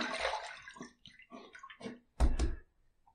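Water runs and splashes as a shaving brush is rinsed after a second lather pass, in two short bursts at close range with a faint gurgle between.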